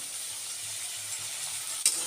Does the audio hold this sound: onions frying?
yes